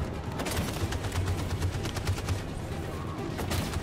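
Covering gunfire in the Detroit Become Human video game's final battle arrives as a dense, continuous barrage of overlapping shots, loud and close, with no pause across the stretch.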